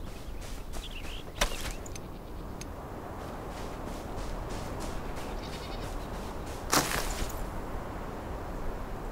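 Sheep bleating in the video game Enshrouded, a few short bleats scattered over a steady outdoor ambience, with occasional footsteps and one or two sharp clicks.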